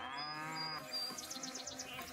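Cartoon cow in the Meena video game lets out a drawn-out mooing call, followed by short bright chiming game tones, heard alone with no talk.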